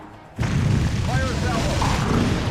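A missile salvo fires with a sudden loud boom that swells into a sustained roaring rumble and rush, close and dense, lasting for the rest of the moment.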